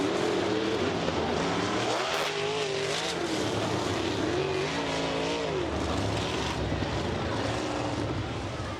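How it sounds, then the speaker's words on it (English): Sprint cars race at Lincoln Park Speedway in Putnamville, their engines giving a loud, steady, unbroken roar that swells and fades slightly as they pass, with no voices heard. "I'm going to drive a sprint car tonight"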